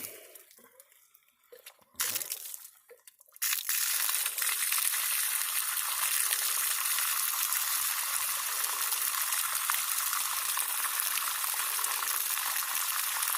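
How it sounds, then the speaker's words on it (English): A few faint knocks and a brief sputter, then a strong, steady rush of water pouring from a newly installed farm water line pipe, loud and continuous to the end. "Water's running clean."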